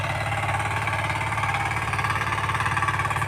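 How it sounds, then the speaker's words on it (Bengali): A farm machine plowing a field gives off a steady, close engine drone with a fast, even chugging pulse that stays constant throughout, with no voices over it. "জমি চাষ করছে দেখতে পাচ্ছ"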